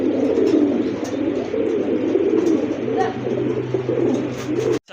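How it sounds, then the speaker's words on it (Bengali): A pair of short face pigeons coo steadily at close range, soft repeated throaty calls rolling on without pause and no talking over them. "প্রথমে আপনারা দেখতে পাচ্ছেন এক জোড়া শর্ট ফেস কবুতর"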